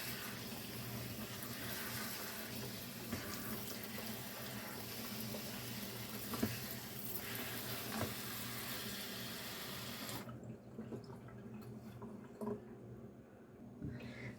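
Frozen cranberries are rinsed under a running kitchen tap, a steady close splash and patter of water that cuts off near the end, leaving a few soft handling sounds.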